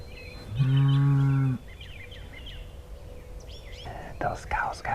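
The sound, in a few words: cows mooing in a pasture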